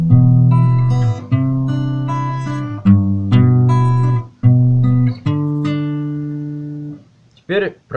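Guitar playing a short melodic phrase on the lower strings, with clearly plucked notes, some repeated and ringing, and a brief higher squeak at the end. Nobody speaks.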